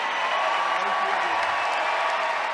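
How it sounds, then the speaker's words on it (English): A large arena crowd gives steady, dense applause and cheering for a strongman at the Europe's Strongest Man 2017 contest. The roar stays at a constant level and stays near throughout. "let's have a regal cheer for Lawrence Solé"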